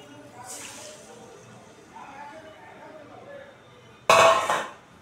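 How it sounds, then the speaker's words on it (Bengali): Marinated prawns are poured into a hot wok for a Bengali kadai paturi, giving a sudden loud sizzling hiss near the end after a stretch of quieter kitchen sounds. "এই যে কড়াইতে ঢেলে দিচ্ছি,"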